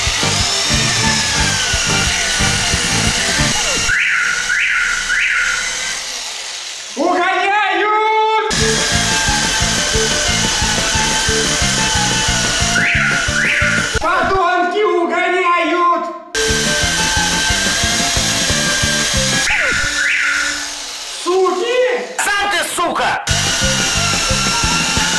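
A power tool drives screws to fit license plate frames on a Subaru Forester in a garage, sounding as loud whirring bursts that stop and start, with short breaks between runs and no voices.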